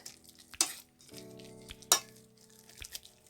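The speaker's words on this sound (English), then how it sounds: "You have to mix very well." Carrot omelette mixture in a pan being stirred, faint scraping and a couple of sharp utensil knocks over a quiet, low hum, with little sizzle.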